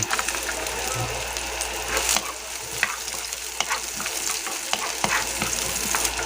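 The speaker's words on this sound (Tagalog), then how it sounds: "Gisa natin yung sibuyas, bawang," Onion and garlic sauté in hot oil in a pan for a kangkong and shrimp dish, with a continuous loud, close sizzle and frequent scraping and stirring clicks.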